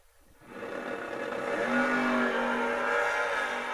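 Two drag race cars at a memorial race launch, and their engines climb from a low idle into a loud, sustained high-revving roar that holds steady to the end.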